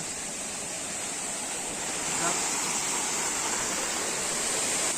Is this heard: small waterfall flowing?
yes